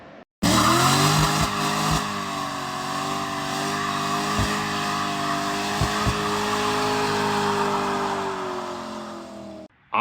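A C6 Corvette V8 idles steadily with Speed Engineering headers and an X pipe, a loud, continuous low rumble with a slight lope, heard alone for nearly the whole stretch.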